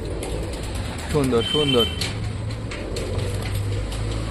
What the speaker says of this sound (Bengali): দেখো এই পায়রাটার ডাকাডাকি, পায়রাটা খতরনাক ডাকে